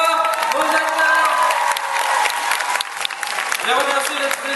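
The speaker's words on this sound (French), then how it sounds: "donc on peut applaudir une dernière fois aux acteurs." Audience at a Paris manga and sci-fi convention Q&A session applauds the actors, with dense sustained clapping, some cheers and whoops, and a voice talking over the crowd.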